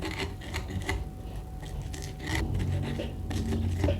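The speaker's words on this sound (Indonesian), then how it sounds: "Ulek-ulek, teksturnya agak kasar saja, tidak perlu terlalu halus." Chili sambal for bean-sprout sambal being ground coarsely in a stone mortar with a pestle, heard as close, rhythmic rasping and scraping strokes that continue throughout.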